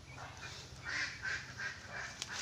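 Large domestic ducks kept on a small farm give a quiet series of repeated, nasal quacks, fairly faint and slightly distant, with no voices.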